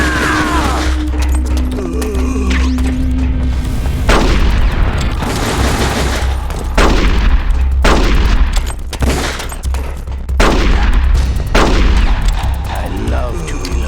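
Gunshots in The Twin Snakes ring out as loud, heavy blasts in an irregular string over a low rumbling bed, spaced one to two seconds apart with some quicker clusters, close and dominant.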